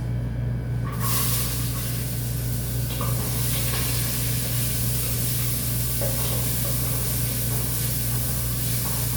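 Onions fry in hot oil for Arabic Bukhari rice with chicken, a loud dense sizzle that bursts in at once and holds steady over a constant low hum, no talking.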